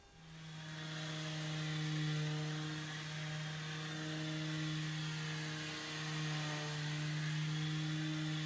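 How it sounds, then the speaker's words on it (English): A random orbit sander fitted with 220 grit sandpaper works over a pine bench, giving a steady, close motor whir with a low hum that holds for the whole stretch without a break. "We're going to use our random orbit sander and 220 grit sandpaper."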